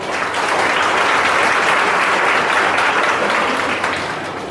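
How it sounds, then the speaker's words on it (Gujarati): An audience at an institution for blind residents claps to welcome a visiting family, loud continuous applause that swells and then tapers off near the end. "આપણે સૌ તેમનું તાળીઓથી સ્વાગત કરીએ"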